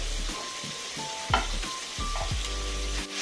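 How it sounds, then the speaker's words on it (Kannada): Chicken pieces roast in a single spoonful of oil on an open tawa, giving a steady close sizzle broken by a few sharper crackles and pops, with no talking. "ಈಗ ಈ ಚಿಕನ್ನ ಸ್ವಲ್ಪ ತವದ ಮೇಲೆ ರೋಸ್ಟ್ ಮಾಡ್ಕೊಳ್ತೀನಿ"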